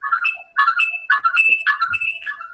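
A phone ringtone playing a repeating electronic melodic pattern of bright chirping tones in four quick cycles, loud and close with no talk.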